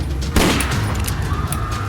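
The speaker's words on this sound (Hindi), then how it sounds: "गोली की आवाज़ सुनते ही" A single loud gunshot from an audio drama set in a busy market cracks out over a dense, steady rumble of background ambience, with a short decaying tail.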